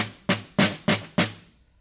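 Snare drum strokes played with too tight a grip, four short dry hits at an even pace with little bounce or buzz, close and alone.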